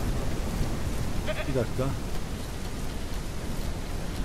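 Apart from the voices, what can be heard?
rain in Ranch Simulator video game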